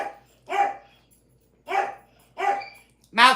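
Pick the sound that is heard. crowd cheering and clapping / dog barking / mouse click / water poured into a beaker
dog barking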